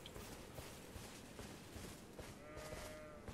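Goats bleat faintly in the open world of Elden Ring, a few soft, drawn-out calls toward the end over a steady low ambient wash, with no talk.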